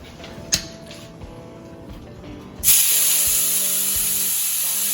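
Butter hits a hot cast iron pan partway through and bursts into a loud, steady hiss and sizzle that carries on to the end, close up with no voices.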